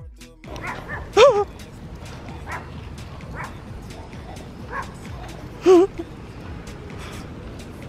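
A dog barks twice, loud and close, with high whimpering and whining between and after the barks. A low background murmur runs throughout.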